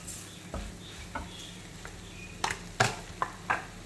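A spoon scrapes and stirs spice powders in a pan while cooking Kerala-style kadala curry, giving a few soft, separate clinks and scrapes, each sharp but brief, over a quiet background.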